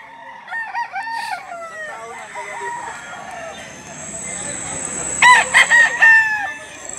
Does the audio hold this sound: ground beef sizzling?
no